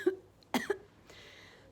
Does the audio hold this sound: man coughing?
yes